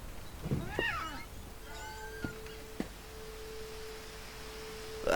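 A cat in a video game meows a couple of times, clear and close, followed by soft tonal chimes and a steady sustained hum.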